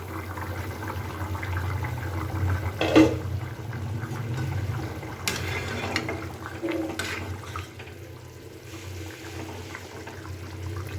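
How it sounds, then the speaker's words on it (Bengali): Bengali egg curry with potatoes bubbling in an uncovered pot, a steady soft simmer with a few louder pops and splashes, close by and with no talking. "এবার খোলা অবস্থায় আমি আরেকটু ফুটিয়ে নিচ্ছি, জলটাকে টানিয়ে নিচ্ছি"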